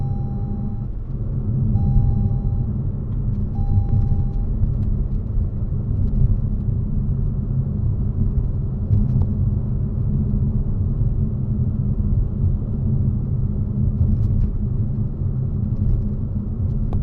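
Inside a Toyota Aygo X on the road, a steady low tyre rumble and hum fills the cabin at an even level throughout, with faint chimes early on and no talk.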